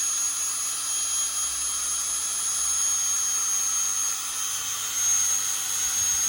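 A power drill drives a big blue motorcycle lift upward with a Goldwing on it, a steady loud whining hum with a high tonal whine, running continuously and close.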